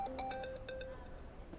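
A phone ringtone in an indoor drama scene, a rapid series of bright electronic tones played alone in a quick rhythmic burst and then fading out.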